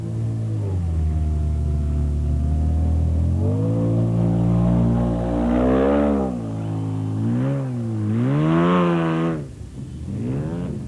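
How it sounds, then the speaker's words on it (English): A Mitsubishi V6 supercharged Jimco off-road race car engine, heard loud and close, droning then rising and falling through repeated revs and gear changes before a final sharp rise. "The Mitsubishi V6 supercharged Jimco is a formidable machine"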